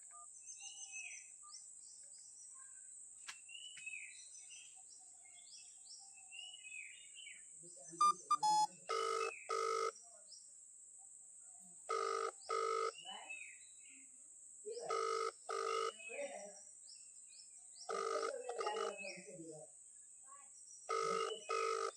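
Phone ringback tone repeating in regular bursts after a call is placed to a husband's phone and goes unanswered, with a speaking voice and birds chirping faintly in a village setting.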